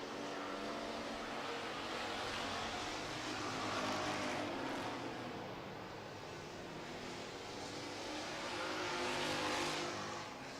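Street stock race cars roar around an oval track during a feature race, a dense, continuous engine drone that swells and fades as the pack passes, heard from trackside without talk.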